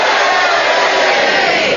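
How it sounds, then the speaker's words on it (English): Studio audience on a panel game show cheering and booing together, a dense, loud roar of many voices sustained throughout without a break. "if you agree with Sheila's challenge about the encampment, will you cheer? And if you disagree, will you boo?"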